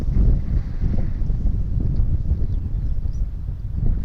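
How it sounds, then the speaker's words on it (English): Strong wind gusts across an open golf course, a loud, continuous low rumble of buffeting against the microphone with no voices. "Wind is helping slightly, but left to right."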